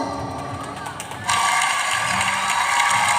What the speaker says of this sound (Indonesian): Oke, tepuk tangan untuk peserta